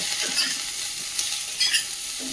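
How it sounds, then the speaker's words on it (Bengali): Mixed vegetables for veg pulao sizzle steadily in a hot pan while a utensil scrapes and stirs in short, irregular strokes, close by and with no talking. "সব সবজিগুলো দিয়ে একটু ভালো করে ভেজে নেব"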